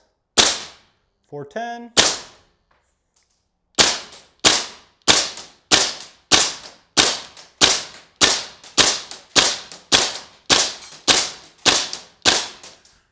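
A gas airsoft gun fires a rapid string of about fifteen sharp, loud cracks in steady rhythm after two earlier single shots, with a short electronic beep near the start and a voice briefly speaking.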